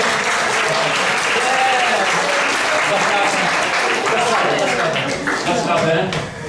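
Sustained, loud applause from a concert audience in Poland, dense clapping filling the whole stretch and easing slightly at the end, with voices mixed into the crowd noise.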